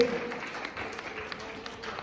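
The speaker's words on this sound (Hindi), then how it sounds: "जोरदार ताली से हम पंजाब के साथी का स्वागत करेंगे।" Faint, distant applause rises from participants at a national unity camp in Ujjain, a soft continuous patter of many hands at low level.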